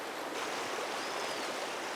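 The Swift River flowing through a Jamaican forest near its source, a steady, full rushing of water that stays close and constant without a break, with no voices.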